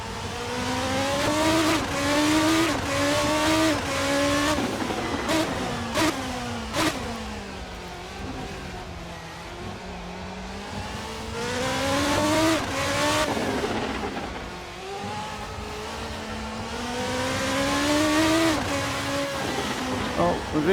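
Praga R1 V8 race car lapping the Tsukuba circuit in a racing video game, its engine revving and shifting up and down through corners, loud and continuous with pitch sweeps throughout.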